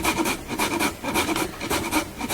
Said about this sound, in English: I'm going to add the zest of a small lemon